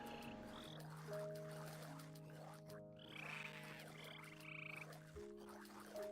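Big frogs croak repeatedly in a video game, a steady chorus of loud, layered croaks with sustained tonal calls underneath, continuing throughout with no talking.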